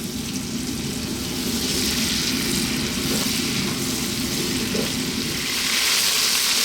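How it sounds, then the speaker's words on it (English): Lamb pieces fry in a hot pan, giving a steady, loud, dense sizzle that runs unbroken throughout, with no voices over it. "I'm going to fry this lamb around for about 4 minutes, keeping it moving."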